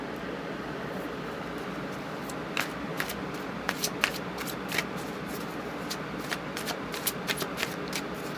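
Tarot cards being shuffled by hand, a soft papery riffle broken by sharper snaps and flutters of the deck, close and fairly quiet over a hiss of room noise, with no voice.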